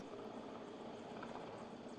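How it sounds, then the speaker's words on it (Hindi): Helicopter hovering in place over a rescue operation, its steady rotor and engine drone filling the scene at a constant, moderate level without any speech. "अब देखिए जो हेलीकॉप्टर है वो अब ठीक उसी जगह बना हुआ, अब वहाँ से थोड़ा हिलता हुआ"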